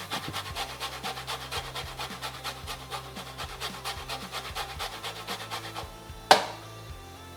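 Lemon being zested on a grater, a steady rhythmic rasping stroke repeated about twice a second, close and fairly quiet, ending with a sharp knock.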